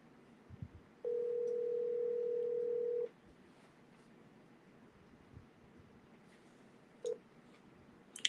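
A steady phone ringback tone sounds once for about two seconds, fairly loud over a quiet background, with a brief second tone blip near the end.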